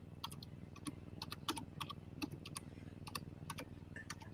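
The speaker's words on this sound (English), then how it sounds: "he typing over there" Quick, irregular clicks of typing on a computer keyboard during a live house-party radio show, faint-to-moderate bursts of keystrokes over a low background hum.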